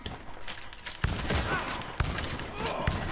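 Heavy shotgun blasts in Red Dead Online boom at roughly one-second intervals, each a sharp loud crack followed by a rumbling tail over continuing shootout noise.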